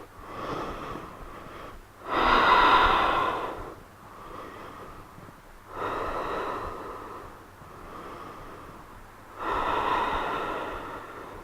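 Slow, audible breaths during a yoga practice in child's pose, three long airy exhales rising and falling at steady intervals with quieter inhales between, close and without speech.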